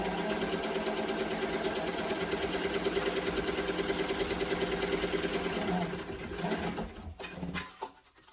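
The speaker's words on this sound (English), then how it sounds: "I'm going to go ahead and sew down this side using the seam allowance in the pattern" Sewing machine running steadily down the side seam of a sling bag, a continuous close mechanical whir that slows and stops near the end, followed by faint handling noises.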